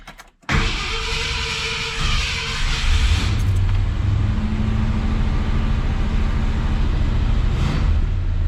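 A Ford Galaxie engine cranks and catches after a brief pause in a garage, then runs loud and steady nearby with a low rumble that rises slightly partway through.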